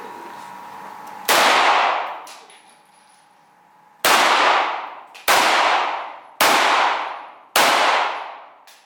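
Gunfire at an indoor shooting range where an SKS carbine and Russian pistols such as the Makarov are fired, five loud, sharp shots with ringing echo tails, one early shot and then four fired at an even pace.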